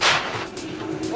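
A sharp, heavy crunch of one car striking another in the F1 2020 racing game, a single short impact followed by engine and tyre noise.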